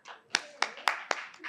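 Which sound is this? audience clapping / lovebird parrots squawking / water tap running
audience clapping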